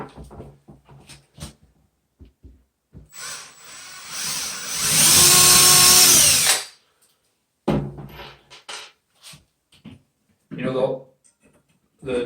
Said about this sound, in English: and again I'm going to pre-drill that.